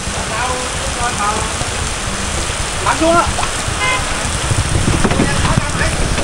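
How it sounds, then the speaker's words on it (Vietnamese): Heavy rain pours steadily on a rainy day while cattle are being delivered in Quảng Ngãi, a dense continuous hiss filling the scene as people talk over it. "giờ nó mưa sao mà nó mưa"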